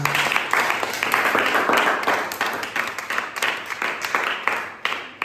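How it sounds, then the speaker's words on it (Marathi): A room of students claps for a classmate named Anuja, a brisk burst of hand claps with some voices mixed in, fading slightly toward the end. "अनुजासाठी एकदा टाळ्या होऊ द्या"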